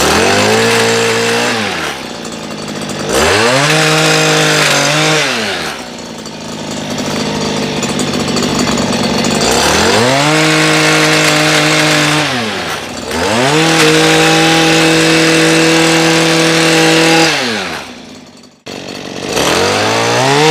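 Stihl KM94R two-stroke engine running on 100:1 oil mix, loud and close, repeatedly revving up to a high scream and dropping back to idle in several long cycles, with no talking.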